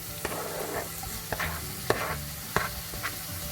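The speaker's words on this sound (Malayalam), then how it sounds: "നമുക്ക് അരിഞ്ഞ് വെച്ചേക്കുന്ന ബനാന ഇട്ട് കൊടുക്കാമേ" Chopped banana frying in melted butter, with a steady close sizzle and repeated sharp spatula knocks and scrapes against the pan as it is stirred.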